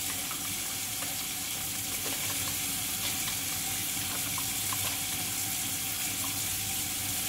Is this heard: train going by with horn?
no